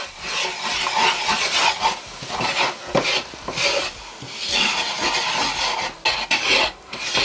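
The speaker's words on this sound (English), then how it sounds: "this is rice flour and it's 4 tablespoons. So I'm gonna put it in slowly. Okay, and I'll stir it." Rice flour being stirred into a pan with a spoon for tuna croquettes, an uneven scraping and rasping with irregular strokes and short pauses, close and fairly loud.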